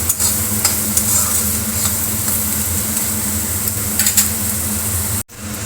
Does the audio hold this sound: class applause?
no